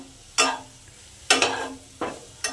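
Spice paste being fried and stirred in a pan for a Bengali lentil dish, with a few sharp scraping, sizzling bursts of the spatula at irregular intervals over a low steady background, close and fairly loud.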